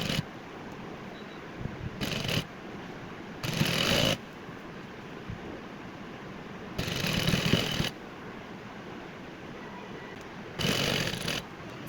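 A sewing machine stitches a lace finishing strip onto a dress in four separate runs of steady whirring, each lasting about a second, against a quiet, faintly hissing room with no speech.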